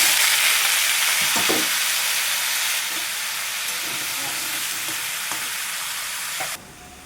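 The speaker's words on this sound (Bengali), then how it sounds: "কড়াইতে আমি তেলের উপরে যেসব কাঁচা কলা দিয়ে দিলাম।" Raw green banana pieces sizzle and fry in hot oil in a wok, a steady loud hiss with faint stirring clicks that drops slightly partway through.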